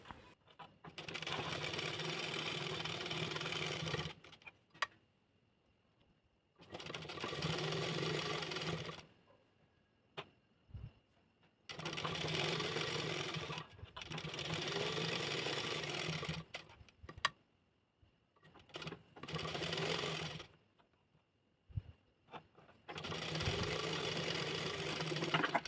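A sewing machine stitches around the sides of a baby cap in repeated bursts of fast, even whirring, each lasting a few seconds and separated by short quiet pauses, close and clear with no talking.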